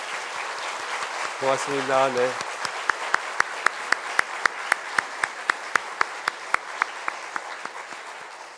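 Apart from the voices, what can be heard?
congregation applause welcoming a pastor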